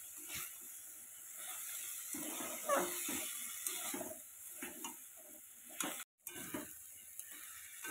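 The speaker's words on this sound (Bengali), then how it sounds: "তো এবার আমি ওর মধ্যে ভেজে রাখা আলু আর ওই মাশরুমগুলো দিয়ে দিলাম, দিয়ে আরও একটু ভালো করে কষিয়ে নেব।" Fried potatoes and mushrooms being stir-fried in a pan for a Bengali-style curry, with soft sizzling under repeated scraping and stirring strokes of a spatula, close and fairly quiet, briefly cutting out near the end.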